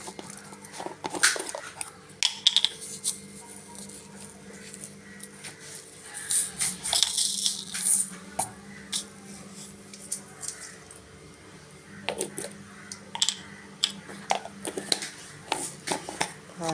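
Mustard seeds splutter in hot oil in a pan, with irregular crackles and pops coming in scattered bursts, some clustered and some single, fairly close over a quiet background.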